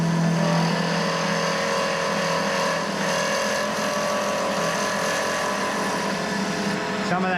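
A chisel cuts into an olive log spinning on a hand-turned lathe, giving a continuous loud rough scraping roar and a buzzing rattle from the log vibrating where it sticks out far from the chuck.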